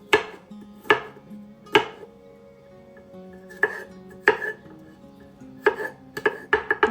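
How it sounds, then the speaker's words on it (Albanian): Garlic cloves are chopped with a knife, giving a series of sharp, irregular chops close by, some in quick clusters, over a soft tonal background with no talking. "ndërkohë do të grijmë 2 thelpi hudhër"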